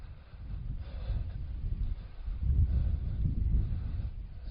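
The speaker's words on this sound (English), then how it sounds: "quite strong as it blows unobstructed across the broad Vale of York from the west" Strong westerly wind sweeps unobstructed across the broad, open Vale of York, buffeting as a gusty low rumble that swells and eases without let-up.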